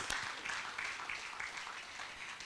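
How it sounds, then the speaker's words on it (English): A hotel function room audience at the NUFA Awards ceremony, Acholi Inn Hotel, keeps up soft, continuous clapping for a chief guest's entrance, fairly faint and without talk. "Let's keep clapping until she gets here."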